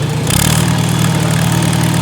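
An International Harvester Super A tractor's four-cylinder engine idles loudly and steadily close by, a smooth, even rumble with no talking.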